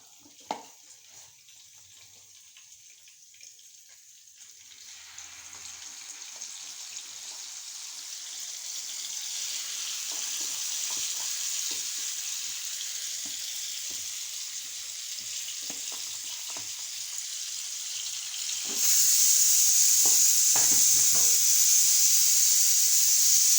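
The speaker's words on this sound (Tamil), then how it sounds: "இப்போ நம்ம இதில் ஃபஸ்ட்டு மீனை பொரிச்சிடும்" Masala-coated fish fries in hot oil in a pan, starting quiet, then building into a steady sizzling hiss that turns louder and brighter near the end.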